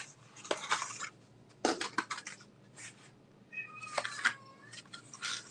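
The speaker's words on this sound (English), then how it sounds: "Why'd you let that cat in?" A cat meows indoors, with several short, fairly close cries separated by pauses over faint room noise.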